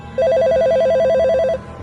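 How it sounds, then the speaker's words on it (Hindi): A telephone rings in a single sustained burst of rapid warbling electronic trills, loud and close with nothing else behind it, a sudden midnight call in a horror tale. "उसके फोन की घंटी बजी"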